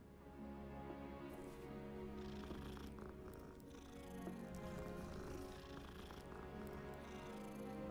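A cat purrs steadily in the Hogwarts Legacy wizarding world, a continuous low rumble running through the whole stretch over faint game ambience.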